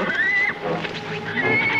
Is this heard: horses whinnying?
yes